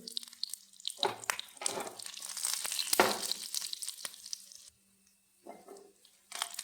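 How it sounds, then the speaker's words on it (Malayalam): Lentils, urad dal and garlic frying in a pan while making a chammanthi, a close crackling sizzle that surges and fades, dropping briefly to near silence before picking up again. "പരിപ്പും ഉഴുന്നും വെളുത്തുള്ളി ഇട്ട് കൊടുത്ത്"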